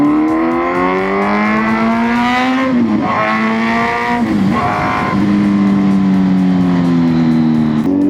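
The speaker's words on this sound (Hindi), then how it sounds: "आप बढ़िया सी इनलाइन 4 आवाज़ के आनंद लीजिए" Kawasaki Z900 inline-four motorcycle engine revving hard close by, a loud rising howl with several sharp gear-change dips before climbing again, continuous and without talk.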